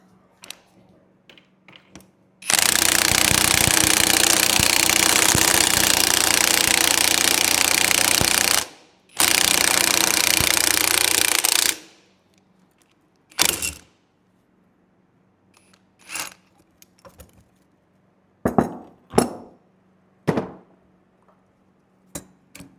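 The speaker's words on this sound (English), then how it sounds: "grab the ball joint press, and what I'm gonna do is press on the one side of the U-joint" Jeep JK axle U-joint being pressed out with a ball joint press, a loud continuous grinding roar lasting several seconds with a brief break, followed by scattered sharp clanks and taps.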